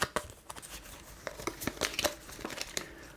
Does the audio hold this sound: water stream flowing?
no